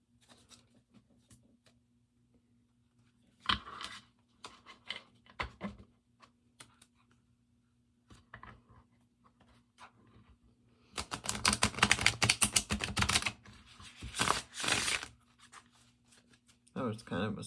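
A tarot deck of linen cardstock is shuffled, its cards giving short papery riffles and taps separated by quiet gaps, then a denser burst of flicking near the end, with a faint hum underneath.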